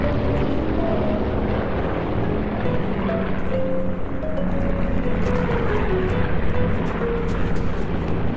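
A helicopter in Call of Duty Black Ops 4 Blackout, a constant rotor and engine drone that holds steady throughout, with faint game effects layered over it.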